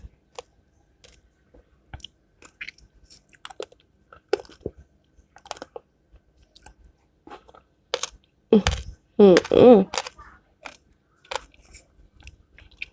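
Passion fruit being eaten close up: scattered soft crunches and bites through quiet stretches, building into a louder burst of chewing and mouth noises midway, then tapering back to sparse small clicks.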